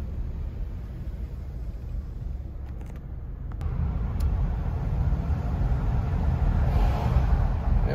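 A continuous low rumble of road traffic inside SubTropolis, an underground business complex, swelling slightly louder midway as a vehicle passes, with wind-like noise and no talking.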